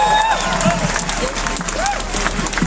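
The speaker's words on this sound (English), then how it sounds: "Give him a huge round of applause" Crowd at an outdoor cost-of-living protest rally applauding a speaker, steady clapping mixed with some cheering and voices, with a low hum underneath.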